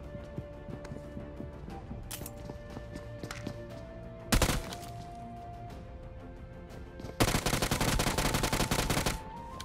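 Gunfire in a battle royale video game: scattered single shots, then a sharp burst and a sustained rapid automatic volley near the end, loud against a steady game soundscape.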